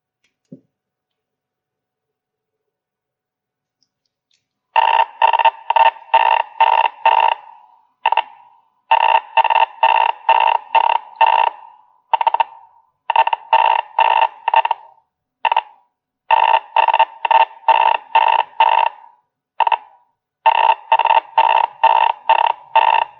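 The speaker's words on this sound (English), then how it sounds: "I will press menu to transmit the tones, and I have another radio in the same frequency near to my laptop's microphone to receive the tones and decode them" Quansheng UV-K5 handheld radio transmitting data tones, received over a second radio near a laptop microphone: rapid bursts of loud, evenly pulsed beeping in repeated groups after a few seconds of silence, with short gaps between sequences.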